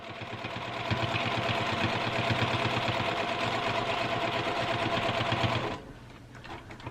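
A sewing machine stitches down a quilt block, a rapid, even mechanical chatter running close and loud for about six seconds before stopping abruptly, leaving quieter room tone.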